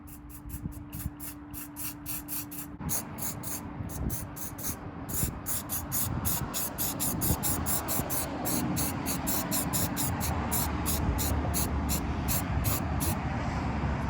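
Black Rust-Oleum spray paint hisses from a can in light coats, a quiet close-up hiss broken into many short rhythmic bursts as the nozzle is pressed and released.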